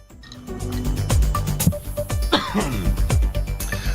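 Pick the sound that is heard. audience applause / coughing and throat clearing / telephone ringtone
coughing and throat clearing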